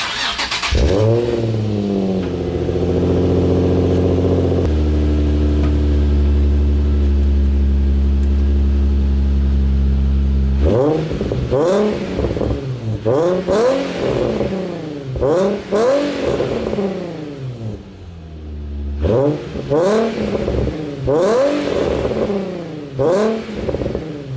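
A Nissan 350Z with an HR test pipe exhaust revs loudly and close, first in a long sustained high rev, then in several rising and falling throttle blips with a raspy edge.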